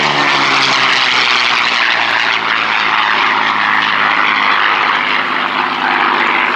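Propeller aircraft engines drone loudly and steadily at the Duxford Battle of Britain air show, a sustained near roar with a rough, throbbing tone.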